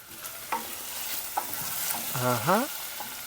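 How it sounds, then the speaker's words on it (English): Onions softening in a frying pan for a vegetable curry, cooked inside a camper van, produce a soft, steady sizzle with a few sharp clicks and a brief squeaky tone near the end. "So I've got onions in the pan, softening."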